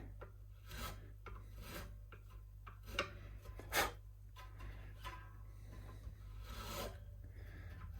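A hand file, run with its safe edge, rasps the sharp corner off the nut of an Eastwood Tenor 2P baritone guitar: several short, close scraping strokes over a steady low hum.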